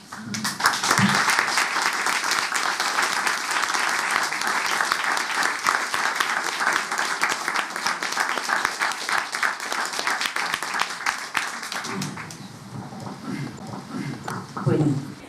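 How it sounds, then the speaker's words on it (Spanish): Sustained audience applause at a tribute to Dr. Marilú Pelento, with dense clapping for about twelve seconds, then thinning into scattered claps and a brief voice near the end. "Un aplauso para ella."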